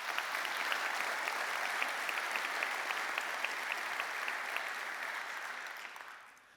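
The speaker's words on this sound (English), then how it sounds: "just give a quick round of applause" A large conference keynote audience applauds the events team in a broad, sustained wash of clapping that holds steady and then fades away near the end.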